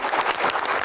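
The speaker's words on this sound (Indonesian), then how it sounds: "Tepuk tangan untuk Pak Bahlil." A dense, loud crowd applause greets a guest speaker at a public Q&A event, steady throughout the short burst.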